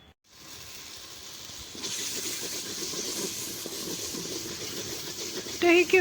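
Tomatoes frying in hot oil in a home kitchen give a steady broadband sizzle and hiss that grows louder after the first couple of seconds, with a few brief clinks near the end.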